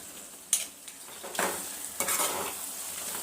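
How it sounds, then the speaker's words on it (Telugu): Gongura leaves and boti being mixed together in a cooker for Telangana-style gongura boti: a few sharp metal scrapes and clanks of a spoon against the pot over a soft sizzle, close by, with no voices. "గోంగూర వేసుకున్నాం కదా, ఒకసారి మొత్తము ముక్కలు కంటేటట్టుగా కలుపుకోవాలి."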